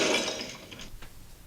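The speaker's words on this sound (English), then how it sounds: "Did you have to break the glass?" Glass breaking in a tense scene from The Walking Dead: a loud crash of shattering glass up front, followed by scattered tinkling shards settling over a second or so.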